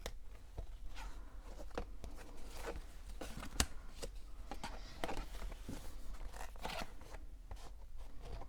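Scissors trim something down in a series of quiet, close snips and rustles at an irregular rhythm, faint against a low background hum, with no talking.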